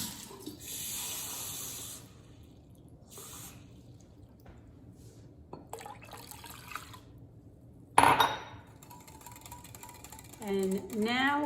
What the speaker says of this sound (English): then I'm going to add 1 cup of cold water